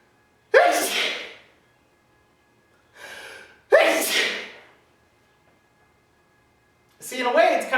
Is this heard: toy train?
no